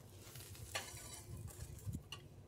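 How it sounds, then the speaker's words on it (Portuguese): Pancake batter frying in a pan, a quiet sizzle broken by light clicks and scrapes of a utensil against the pan, close and soft with no one talking. "Ela está começando a fritar um lado"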